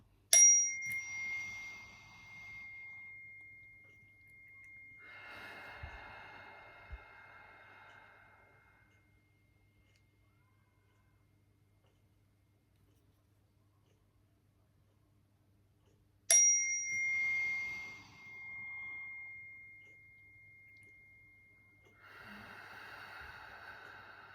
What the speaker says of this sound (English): it's just literally a wind chime attached to a bit of wood. So it's got a very nice sound.